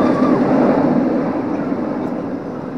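Empty roller coaster trains at Alton Towers theme park running around the track after cleaning, a steady rumbling roar at moderate distance that fades gradually.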